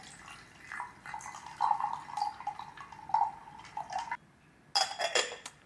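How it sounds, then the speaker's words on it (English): Ice and cold water are poured over gyokuro tea leaves in a vessel, making a soft trickling pour with light clinks of ice, a brief pause, then a final splashy tumble of ice. "I will just dump this all in."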